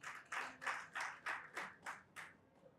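Scattered, sparse clapping from a small audience at a Nigerian live-streamed event, about eight distinct claps in a slow uneven rhythm, moderately near and fairly quiet, tapering off at the end.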